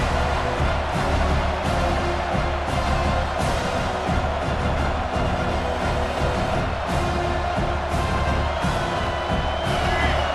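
A dense, steady roar of a large stadium crowd in the video game EA Sports College Football 26, loud and continuous, with faint cheering swells and no clear voices standing out.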